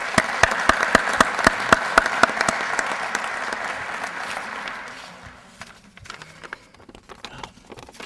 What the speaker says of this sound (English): by a round of applause, thank those who are here